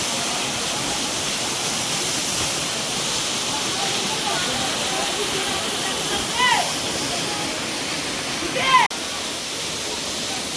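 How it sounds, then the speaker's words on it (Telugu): The Rampa waterfall in Andhra Pradesh roars in a steady, broad hiss throughout, with a brief voice and a faint click rising above it near the end. "ఇదే Rampa water falls, సప్తపది water falls అని అంటారంట వీటిని"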